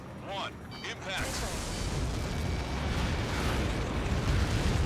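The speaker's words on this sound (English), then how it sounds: "How many got caught in that explosion?" A missile explosion impact in the aerial combat game Ace Combat 7 erupts into a loud, sustained roaring rumble after a few brief sharp pops, filling the scene with dense blast noise.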